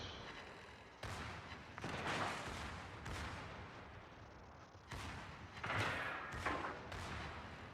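Secondary guns of the battleship Gneisenau firing in a naval video game, a run of heavy booming shots at uneven intervals, each with a sharp onset and a rumbling tail, loud and layered over continuous battle noise.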